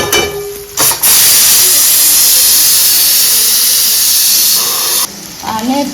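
A pressure cooker is opened and releases a loud, continuous rush of hissing steam that lasts about four seconds and then cuts off abruptly, with brief kitchen sounds just before and after.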